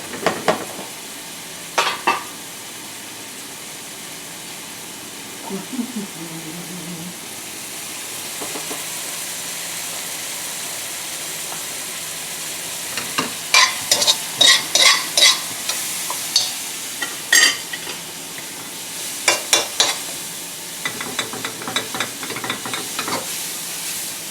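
Spiced rub pork with leeks cooks in a pan, a steady low sizzle punctuated by bursts of loud spatula scrapes and clatter, some close and rapid, with no speech.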